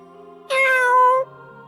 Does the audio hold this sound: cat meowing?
yes